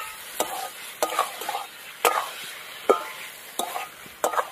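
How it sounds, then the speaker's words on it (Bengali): Mutton fat curry being sautéed in a pan, a continuous sizzle broken by regular, close scraping strokes of a spatula against the pan, roughly one per second. "ভালো করে একদম কষিয়ে নিয়েছি"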